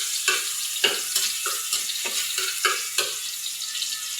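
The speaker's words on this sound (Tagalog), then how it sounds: "gisa tayo ng bawang" Garlic sautéing in a pan in a simple home kitchen, a steady hiss of oil with regular scraping stirs roughly every half second, close and continuous with no talking.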